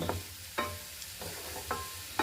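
Sliced onions fry in a pan on a gas stove with a steady low sizzle, broken by a few soft scrapes of a stirring spoon at roughly regular intervals.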